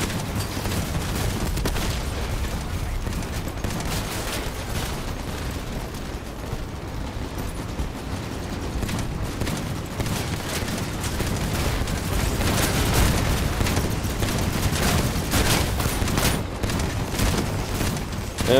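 Heavy weapons fire and blasts from vehicle combat in the game Crossout roar continuously, a dense, loud barrage of shots and booms with no pause and only a little talk beneath.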